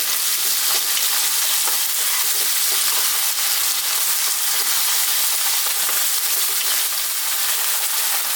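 Lamb curry base of onions and spices frying over a fairly lively heat in a pan, a steady dense sizzle with intermittent scraping stirs, close and continuous, no talking.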